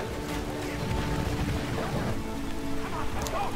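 Steady hiss of rain from a rain spell in a real-time strategy game match, a dense continuous patter with faint game tones underneath and no talking.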